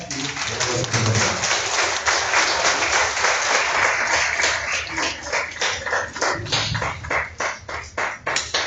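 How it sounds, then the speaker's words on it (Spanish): An audience applauds to welcome a speaker at a talk on the Kikapú tribe of Mexico. The clapping is full and sustained at first, then thins into scattered individual claps toward the end. "Muchas gracias por el aplauso"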